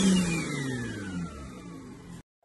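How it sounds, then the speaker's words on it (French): Audi RS4 B5 engine running on its first start-up after rebuild, a steady mid-pitched engine drone with a slight rev that then fades, heard close and alone before cutting off. "pour le premier démarrage, aucun bruit, pas de claquement, tout va bien. Elle tourne à peu près rond"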